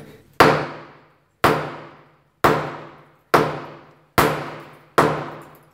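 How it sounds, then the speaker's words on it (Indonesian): A ceramic floor tile is struck with a hammer to break it for removal, giving six sharp, evenly spaced cracking blows up close, each ringing briefly and dying away before the next. "kita coba kita pukul ini"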